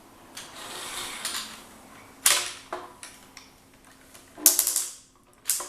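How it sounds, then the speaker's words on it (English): Plastic panels on a Transformers Cybertron Optimus Prime toy being rotated and clicked into place, giving a few sharp close ratcheting clicks and rubbing scrapes spread across the moment, with no talking. "Then rotate the panels forward so that the cannons are facing this way."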